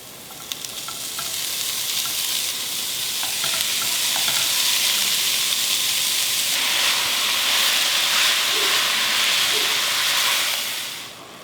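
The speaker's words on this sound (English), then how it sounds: "I'm going to start adding my ground beef." Ground beef sizzles loudly in a pan with diced onions, a dense continuous hiss of frying that swells and holds steady close up, then fades at the end, with no talking.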